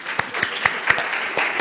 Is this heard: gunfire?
no